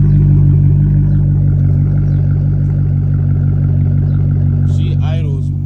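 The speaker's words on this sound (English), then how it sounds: "I'm gonna let you guys hear the exhaust" A W210 Mercedes idles smoothly after a new MAF sensor is fitted. The exhaust gives a steady, low, even rumble up close, with a brief clatter near the end.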